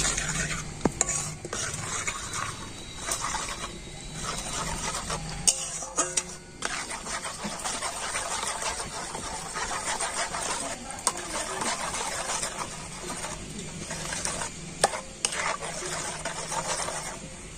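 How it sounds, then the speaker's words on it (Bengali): A spoon stirs powdered milk into warm water, bit by bit, in a pan for homemade gujiya sandesh, giving steady scraping and light clinking that runs on and off, close up, with no talking. "তো আমি অল্প অল্প করে দুধ দেবো আর গুলে নেব।"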